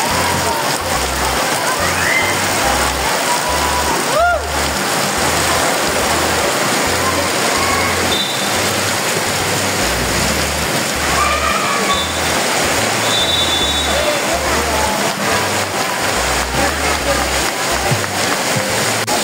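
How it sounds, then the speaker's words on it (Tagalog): Heavy rain pours down at night, growing stronger, a dense steady hiss that stays loud and continuous throughout, with faint distant sounds mixed underneath. "dahil lumakas yung ulan"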